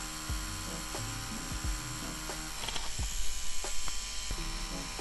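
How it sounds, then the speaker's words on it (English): A tattoo machine runs steadily with a constant electric hum and buzz, fairly close and unaccompanied by talk, with a few light knocks and handling sounds over the drone. "This machine, you could really pick it up and be able to tattoo right out the box without any issues at all"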